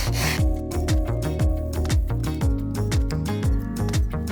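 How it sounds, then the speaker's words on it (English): Steady rhythmic rasping strokes of a hard sanding block chamfering the wood edge of a keepsake box, close and continuous, with regular back-and-forth pulses. "you can do this with a block plane or a hard sanding block"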